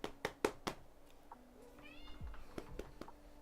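A cat meows once, a drawn-out call heard up close indoors, preceded by several sharp knocks or taps and followed by a few more light taps, with no speech.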